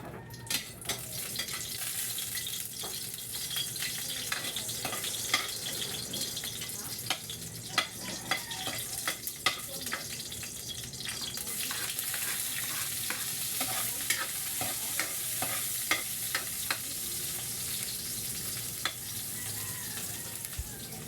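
Eggplant and yardlong beans in a pan over a charcoal fire give a steady sizzle and fry with frequent scraping stirs and utensil clicks across the whole stretch, close and fairly loud. A voice is faint now and then.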